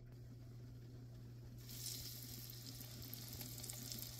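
Test pieces frying in hot oil for green beans and potatoes, a quiet sizzle that swells into a brighter, crackling fry partway through over a steady low hum, with occasional small pops.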